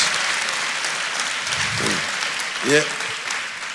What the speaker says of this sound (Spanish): Y eso merece un aplauso.